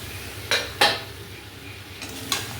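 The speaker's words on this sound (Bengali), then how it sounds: "কচু চিংড়ি মাছটা মশলার সঙ্গে ভালো করে মিশিয়ে নেব।" Taro pieces and prawns being stirred into fried spice paste in a pan for a kochu mocha chingri curry, with a few sharp scraping clinks of a spatula against the pan over a faint background, no talk.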